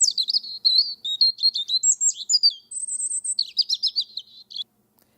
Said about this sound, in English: The European robin lives in Europe and sounds like this.